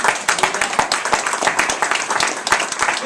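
A crowd applauds at a health care reform speech by a congressman in Pittsburgh, with dense, steady clapping that holds at full strength for about three seconds and carries a few sharper individual claps. No one speaks.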